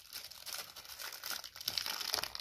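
Plastic packaging crinkles and rustles close up as a child opens a New Year gift packet, giving a continuous crackling that swells near the end.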